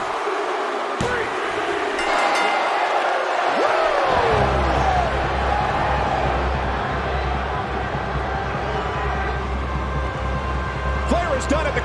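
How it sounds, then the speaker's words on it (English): An arena crowd in WWE 2K17 roars and murmurs after a pinfall, a dense, steady wash of voices with a low rumble joining partway through and holding to the end. "The crowd is shocked here as Flair once again leaves with his hand raised in victory"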